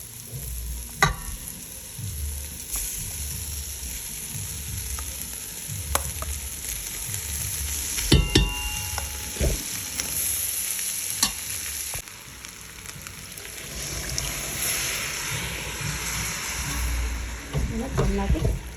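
Cooked ingredients stirred and mixed together in a pan for a spiced rasam powder rice dish, with steady scraping and soft sizzling, occasional sharper clinks of the spoon against the pan, and faint background noise throughout.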